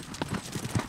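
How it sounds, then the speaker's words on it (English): Horses lope across a Montana riding ranch, their hooves drumming in quick, rhythmic clip-clop beats that sound close and moderately loud over open-air noise. "as Wrangler Annie leads us on a nice long lope"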